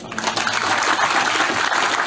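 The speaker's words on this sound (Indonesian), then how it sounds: "Tepuk tangan untuk dua kelompok" Applause for two groups at an evening Islamic gathering with Cak Nun, a dense, steady wash of many hands clapping close by, continuous and fairly loud throughout.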